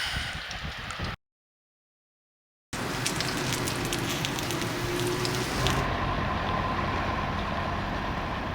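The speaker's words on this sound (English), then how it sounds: "It's raining." Steady rain hissing on a surface, close and continuous, broken by a short silent gap.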